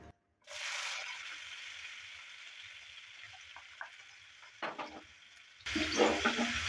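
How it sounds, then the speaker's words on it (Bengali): Chopped onion dropped into hot oil for a garlic-fenugreek vegetable dish, a steady moderate sizzle with a few stirring clatters, then a louder burst of frying near the end, with no talking. "এবার দিয়ে দিচ্ছি পেঁয়াজ কুচি।"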